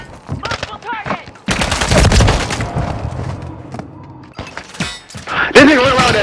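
Rapid bursts of automatic gunfire in a Call of Duty multiplayer match, with loud volleys and impacts coming and going over several seconds, mixed with shouted player voices.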